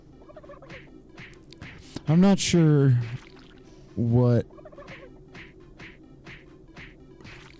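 Turkey gobbles from the game Super Turbo Turkey Puncher, two loud warbling calls a couple of seconds apart, with someone speaking quietly in the background and faint rhythmic clicks afterward.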